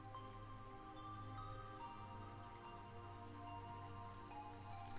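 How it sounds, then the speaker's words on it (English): Steady rain from the Umineko visual novel falls as a continuous, even wash over a low tonal hum, uninterrupted and without voices throughout. "Some time passed as we listened to the sound of rain."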